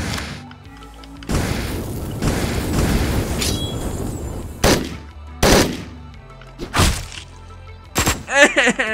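Enemy gunfire in the video game Hotline Miami 2, a run of loud punchy shots and heavy impacts with bursts spaced unevenly, followed by chiming game sound effects at the end.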